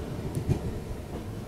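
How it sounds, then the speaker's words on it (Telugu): A goods train hauled by a WAG9 electric locomotive passes on the Chennai–New Delhi main line, heard as a faint, brief low rumble with a couple of soft knocks. "Goods train."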